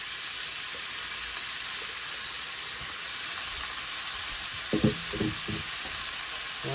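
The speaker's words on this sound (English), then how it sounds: "I can hear my sizzling going on here." Bacon and sausage sizzle steadily in a pan, a soft continuous frying hiss with a few brief clatters of stirring near the end; nobody speaks.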